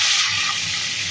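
Pieces of rui fish fry in hot oil, giving a steady, close, bright sizzling hiss that holds evenly without a break.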